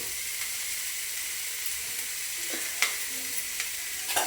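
Village-style chicken gravy with coriander leaves sizzles in a pan with a steady bright hiss, and a few soft clinks and scrapes of stirring break through it up close.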